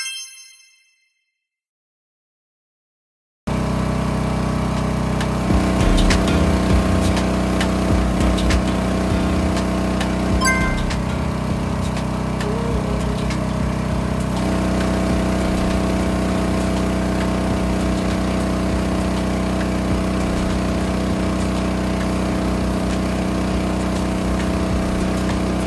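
A Philking PK12000STRA single-cylinder diesel generator rated at 10 kilowatts runs loudly and close by. After a few seconds of silence, a steady, heavy droning hum with a fixed pitch sets in and continues unbroken, with faint metallic clinks now and then.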